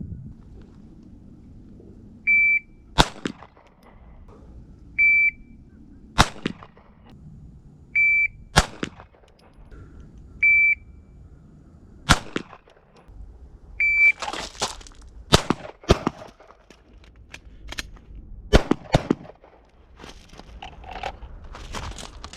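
Handgun shots on a law enforcement qualification course, fired in spaced pairs and then faster strings, each sharp crack loud and close, with electronic timer beeps between strings.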